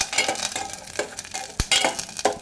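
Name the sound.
frying raisins, cashews and almonds in a pan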